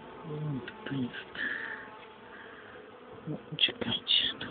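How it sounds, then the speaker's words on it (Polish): A wasp buzzes close by during a beehive inspection, its drone wavering and coming in bursts, with louder passes near the end. "tu jest jakaś osa, którą załatwimy"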